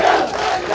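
A dense crowd roars a slogan during the funeral procession of martyred soldier Ramniwas Yadav in Jalalpur village, Kasimabad, Ghazipur, a brief, steady wall of massed voices.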